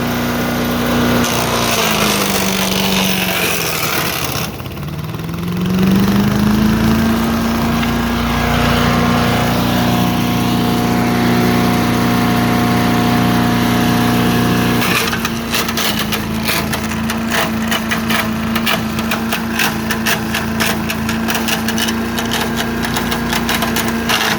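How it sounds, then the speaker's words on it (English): A chipper shredder engine drones loudly and steadily while pine wood is fed through. The engine pitch sags for a moment under load, and after about fifteen seconds a dense crackle of splintering, crunching wood joins the engine. "Got lots of pine here to chip up."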